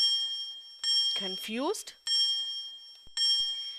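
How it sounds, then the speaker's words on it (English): An electric bell in an animated science lesson rings in steady bursts, with a bright continuous ringing that stops and starts several times around a short spoken line. "Today we shall learn how an electric bell works."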